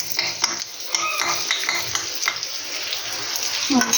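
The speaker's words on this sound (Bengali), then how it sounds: "এখানে যে মাংসের পেঁয়াজটা ভাজতে দিয়ে দিয়েছি" Steady sizzling of onions frying in a pan, a continuous hiss with occasional clinks and scrapes of a utensil.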